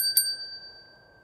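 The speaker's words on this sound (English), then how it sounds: "I've got the old little bell." A small hand bell, tapped as a spirit-communication device in a graveyard, gives one bright metallic ding with a sharp strike that rings out in clear steady tones and fades over about a second, alone against quiet outdoor background.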